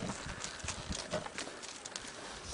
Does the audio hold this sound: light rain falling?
no